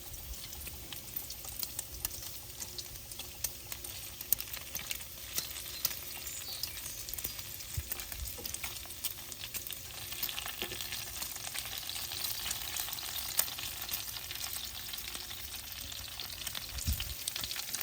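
Bacon strips frying on a Ninja Woodfire XL Pro outdoor grill, a steady close crackling sizzle with fine popping spatters that runs unbroken throughout, no voices over it.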